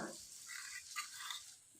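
Potato and bitter gourd frying in a pan, a soft, steady sizzle with faint stirring scrapes, quiet and close, with no voices.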